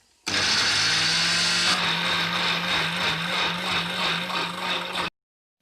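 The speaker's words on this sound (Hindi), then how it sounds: "टमाटरों को ग्राइंड कर लेंगे।" Four tomatoes are ground in a kitchen blender: a loud, steady motor whir with churning grind that runs for about five seconds and then cuts off sharply.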